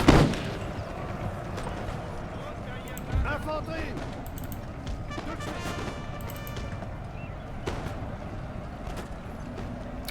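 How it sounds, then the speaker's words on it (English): Scattered musket volleys and gunshots in a Napoleonic Wars battle game as troops fire on retreating units, sharp cracks over a continuous battle din with a voice talking. "Just firing at the retreating units here."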